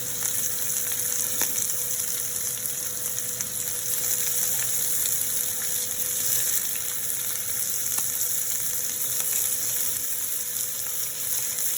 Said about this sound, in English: then we're going to saute the shrimp